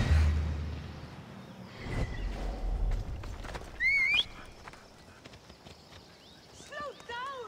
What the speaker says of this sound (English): Slow down, you idiot! I'm sorry, it's a horse, and it is stupid.